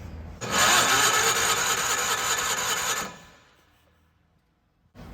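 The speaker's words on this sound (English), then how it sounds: "Well, let's turn it over, see if any fuel pumps out here." A 50th Anniversary Miller Bobcat 225 portable welder's engine cranking over: a loud, close whirring starter drone holds steadily for a few seconds without catching, then cuts off into quiet, and a brief crank begins again at the end.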